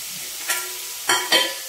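Brinjal frying in a pan with a soft steady sizzle and a few brief scraping stir strokes, close and fairly quiet.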